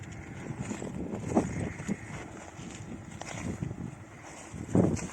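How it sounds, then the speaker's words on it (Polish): Gusty wind buffets the microphone outdoors beside a Ford Mustang convertible, a steady low rumble with a couple of stronger bursts, no talking. "ten szpetny wiatr nam tu przeszkadza"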